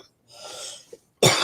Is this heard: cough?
yes